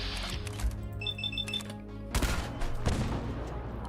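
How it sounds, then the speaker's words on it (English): Gunfire in the video game Fallout 4, a few loud bursts of shots and impacts at the start and again near the end, with a brief electronic beeping tone between them. "I can hear more gunfire somewhere."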